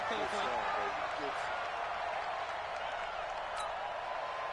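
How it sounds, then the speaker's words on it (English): A stadium crowd roars and cheers in the Madden 20 football video game ahead of a big third down, a sustained, dense wall of noise with a voice briefly audible early on. "The crowd getting into it as we come up on a big 3rd down."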